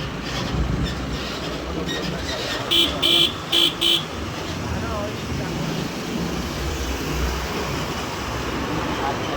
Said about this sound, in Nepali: झर्ने गाडीले त हर्न बजाएर पनि साइड दिँदैन भने हो